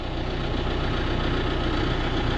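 A John Deere 6120 tractor engine idles steadily on a farm, a loud, close, continuous low diesel rumble with a faint knocking rhythm and no other sounds over it.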